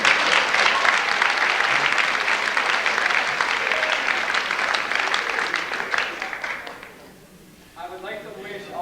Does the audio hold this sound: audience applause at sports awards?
yes